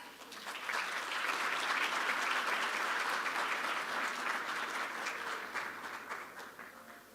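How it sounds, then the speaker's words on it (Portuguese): An audience at a Brazil–Chile energy and strategic minerals forum applauds Chile's mining minister, a dense, sustained round of clapping from a sizable crowd lasting several seconds before tapering off. "Queremos ahora invitar a dar unas palabras a la ministra de Minería de Chile, Aurora Williams, a quien le damos un gran aplauso"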